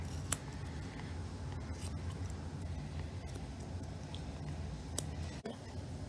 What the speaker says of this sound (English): I'm going to take my scissors and I'm going to just go around the edge.